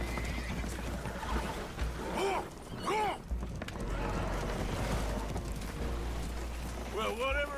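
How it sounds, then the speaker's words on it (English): Spooked horses in Red Dead Redemption 2 whinny repeatedly amid a busy, noisy mix of splashing and creaking from a boat taking on water, with voices sounding intermittently underneath. "Horses are spooked, and we're taking on water."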